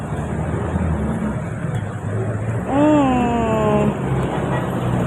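Road traffic on a rainy day rumbles as a steady, loud wash of engine and tyre noise, broken midway by a wavering horn-like tone that fades after about a second.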